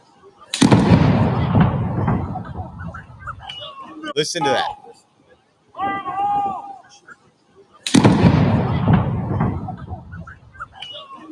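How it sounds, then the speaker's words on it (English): A controlled detonation explosion booms out twice, each a loud broadband blast with a long decaying rumble, separated by a quieter stretch where people talk nearby. "hear fire in the hole, and then you hear the explosion"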